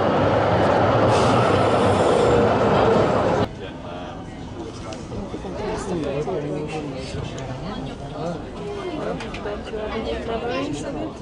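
Oslo tram or metro train in motion, a loud roaring rumble for a few seconds that drops to a quieter rolling hum with some squeal, while people talk over it.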